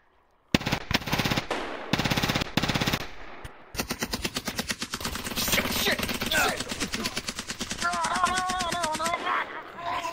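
Automatic gunfire in a video game firefight, long rapid bursts of shots, loud and close, with a brief pause and then continued firing as a voice speaks faintly underneath.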